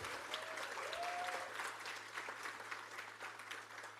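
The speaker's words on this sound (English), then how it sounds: "I would like to give you guys a round of applause" Audience applause at a college innovation and entrepreneurship challenge event, steady dense clapping from a crowd filling the room throughout, with faint voices mixed in.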